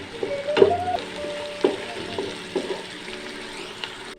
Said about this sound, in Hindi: ये बहुत जल्दी फ्राई हो जाता है जो अदरक लहसुन का पेस्ट है।